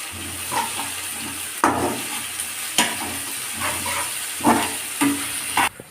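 Gobi manchurian cauliflower pieces fry in a pan with a steady close sizzle, broken by several sharp stirring scrapes and bursts at irregular intervals, no talk.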